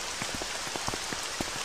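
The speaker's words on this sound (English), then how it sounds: "It's raining." Steady rain patters on a surface with scattered individual drops tapping throughout, fairly close and continuous, with no voices.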